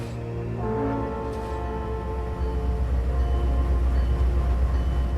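A passenger train pulled by two Genesis diesel locomotives rumbles past with a deep, steady engine drone that grows heavier and closer partway through.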